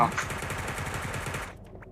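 Rapid automatic gunfire in the mobile battle royale game Sausage Man, dense rattling bursts running steadily for about a second and a half before cutting off, with voices faintly mixed in.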